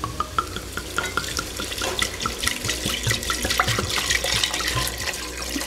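Beef stock is poured into a pot of onions for onion soup, giving a continuous liquid splashing and gurgling with small drips and clinks, close and fairly loud, with no talk.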